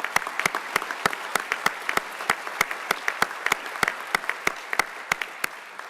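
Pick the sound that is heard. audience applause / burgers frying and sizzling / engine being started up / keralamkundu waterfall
audience applause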